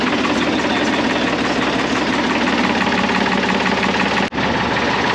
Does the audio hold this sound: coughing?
no